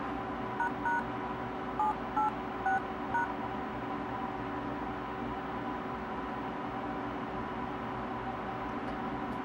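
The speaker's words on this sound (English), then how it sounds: "You're going to want to get this phone into diag mode, and on this one you dial" Keypad dialing tones on an HTC Arrive Windows phone while a diagnostic code is entered: several short beeps in small groups near the start, then a steady hum of background noise with no further tones.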